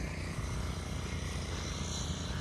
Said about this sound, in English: the noise you hear is my concrete guys over here cutting some relief joints in my shop pad